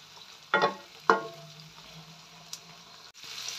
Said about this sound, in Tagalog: Halo-haluin lang natin hanggang sa madurog po yung ating kamatis.